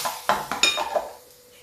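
Hot tadka with Kashmiri chilli is poured into chana nimona in a metal pot, giving a few sharp clinks and scrapes of utensils over a brief hiss that fades quickly.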